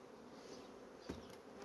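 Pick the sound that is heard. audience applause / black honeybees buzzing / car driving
black honeybees buzzing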